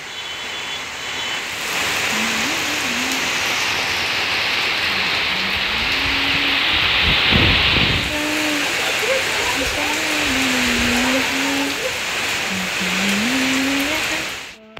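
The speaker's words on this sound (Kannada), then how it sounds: "ಜೋರು ಮಳೆ ಬಂತು." Heavy rain pours down steadily in a village, a loud continuous rushing wash, with a person talking over it.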